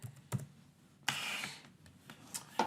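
Sparse, faint clicks of typing on a computer keyboard in a quiet room, a few isolated keystrokes spread out with soft pauses between them.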